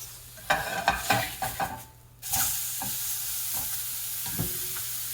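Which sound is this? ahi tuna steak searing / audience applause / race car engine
ahi tuna steak searing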